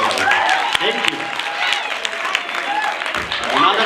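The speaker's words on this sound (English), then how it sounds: "A round of applause, ladies and gentlemen." Audience applause at an Africa Day celebration at a university, a steady crowd clapping carried through the clip with voices and whoops mingled in and a few sharper claps standing out.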